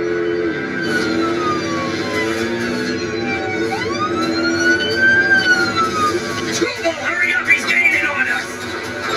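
A wailing police siren during a car chase rises and falls in long sweeping tones, loud and close, over continuous engine and road noise, with voices talking underneath.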